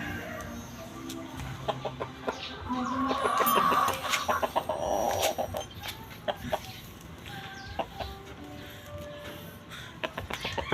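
A breeding hen in a backyard poultry setup, close to laying, clucks in scattered soft bursts amid rustling and other farmyard chatter, fairly faint.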